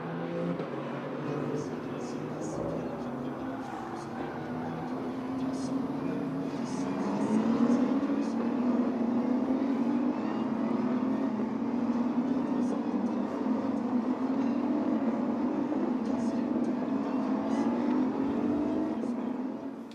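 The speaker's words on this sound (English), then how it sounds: "We're just going to let you listen to the cars" Race cars of the Michelin Le Mans Cup circulating at Le Castellet, a steady droning engine roar rising and swelling as cars pass at moderate distance, with high whines and faint tones over the continuous rumble.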